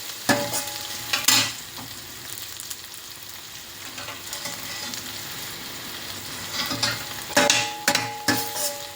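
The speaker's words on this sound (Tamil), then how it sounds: "வெங்காயம் நல்லா சிவந்து வரட்டும்" Onions sauté in a pan, giving a soft, continuous sizzle broken by several sharp scraping bursts as they are stirred, with no talking.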